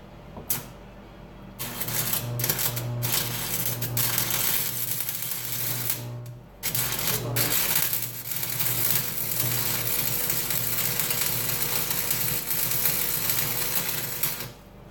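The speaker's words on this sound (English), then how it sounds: "So I'm gonna weld this up." Steel cowboy fire stand being welded, a steady harsh crackling buzz running nearly continuously with a few short pauses between welds, close and fairly loud with no talking.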